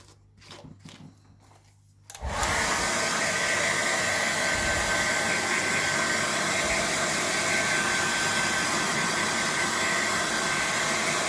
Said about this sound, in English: Bit of drying, bit of brushing.